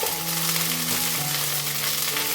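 About two tablespoons of garlic ginger paste sizzle steadily in hot oil for a chicken biryani, a dense, continuous frying hiss close up with no talking.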